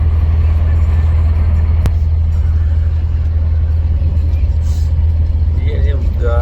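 A vehicle driving along a road heard from inside, a loud, constant low engine and road rumble that continues steadily throughout with a brief sharp knock partway in.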